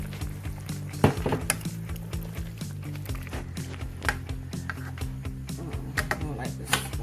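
A spoon knocks and scrapes against a pot while gravy is stirred and thickened with flour, giving irregular close clinks and taps over a tonal background of music or hum.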